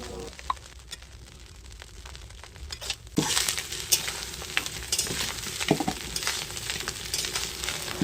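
Fried rice being stirred in a hot pan after ghee and garam masala go in, a soft sizzle that grows louder midway, broken by repeated scraping and tapping of the spoon against the pan.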